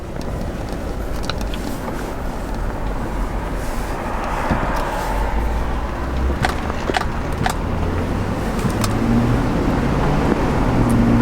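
A 2007 Chevrolet Tahoe LT with 256,000 miles cruises through a neighborhood. Steady engine and road rumble fill the cabin, the engine tone shifts with gear changes, and small clicks and rattles come through occasionally.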